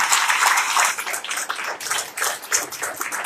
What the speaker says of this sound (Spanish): un aplauso al Señor por la vida de Daniel